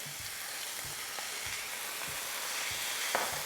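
Beef broth hits a hot pan in a steady, bright sizzle that hisses evenly throughout, with a few soft low knocks underneath and no talking.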